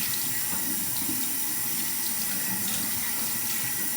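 A tap runs steadily into a sink as skincare products are rinsed off, a continuous close splashing rush with no pauses or talk.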